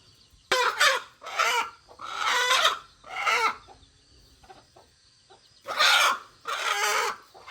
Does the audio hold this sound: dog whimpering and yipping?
no